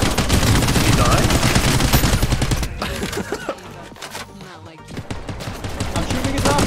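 Rapid, loud bursts of automatic gunfire from a shooter video game crackle densely, thin out into scattered shots in the middle, then build again toward the end.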